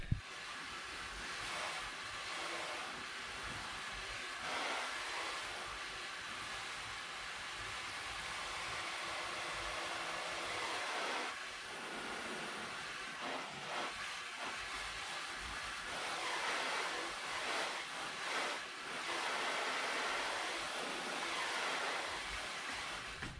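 A garden hose sprays water onto a Nissan Altima during a leak test, a steady, loud rushing hiss that runs without a break, with no talking.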